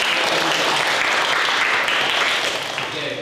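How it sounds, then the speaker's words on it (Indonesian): Classroom applause fills the whole stretch: a steady, dense wash of students clapping together, loud and close, easing slightly toward the end. "kasih tepuk tangan dulu"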